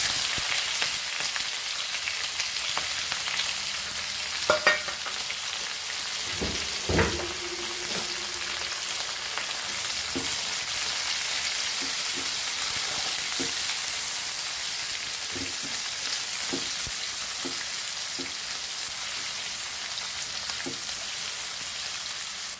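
Onion fries in a pan for Goan jackfruit foogath, a constant dense sizzle close up, with a few clinks and stirring knocks scattered through it.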